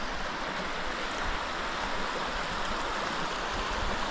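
A spring-fed mountain creek flows with a steady, close, broadband rush of water, uninterrupted and without voices.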